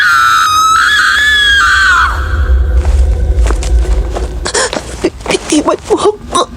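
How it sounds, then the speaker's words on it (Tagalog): A woman screams in a sound-effect drama, one long, loud, wavering shriek that fades out, followed by thumps, footsteps and breathy voice sounds. "naririnig niyang sumisigaw si Felisa mula sa malayo"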